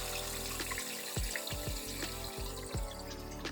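Sanitizer water emptied out of a CS700 machine, a steady close splashing pour with gurgles and small sloshing surges, without speech.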